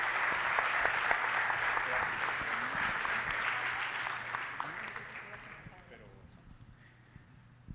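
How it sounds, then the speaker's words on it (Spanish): Audience applauding guests of honor at a public talk on architectural heritage and city memory, a steady dense clapping that carries on for several seconds before thinning and fading out near the end. "les pido un aplauso para nuestros invitados de honor"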